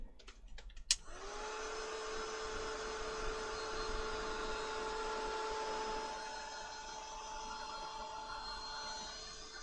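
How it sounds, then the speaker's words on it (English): A heat tool or dryer whirring on to dry a craft project, starting after a few clicks and holding a steady, close whine with a high tone for several seconds, no talk. "I'm just going to dry that quickly."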